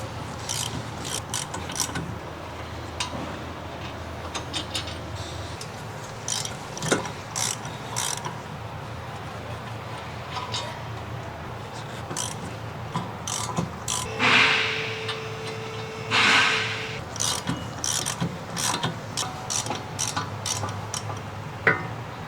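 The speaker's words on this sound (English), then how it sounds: "Using the large ratcheting wrench with the large 15mm short socket, remove the 4 retaining bolts." A large ratcheting wrench with a 15mm short socket removes the rear wheel hub bearing retaining bolts on a 2015-2018 Ford Fusion, giving repeated close ratchet clicks in bursts with brief pauses and a scrape midway.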